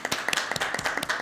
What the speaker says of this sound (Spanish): Te damos un aplauso fraterno desde acá.